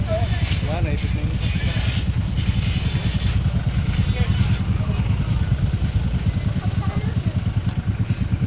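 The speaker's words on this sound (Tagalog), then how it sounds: "Ang daming motor." Many motorcycles pass near Bagsit River on a crowded weekend, their engines merging into a continuous close, pulsing rumble, with voices faintly mixed in.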